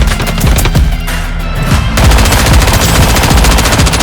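Rapid automatic gunfire from the video game Fate Trigger, loud and continuous bursts with sharp repeated shots throughout, dense and close with no speech.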